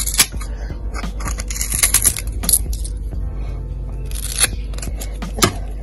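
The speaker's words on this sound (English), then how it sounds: "lamb ribs, very, very easy to cut up if you get yourself a good strong pair of scissors." Sharp snipping and crunching as heavy, strong scissors cut through lamb rib bones, several cuts in a row with clicks and cracks, close and fairly loud, no talking.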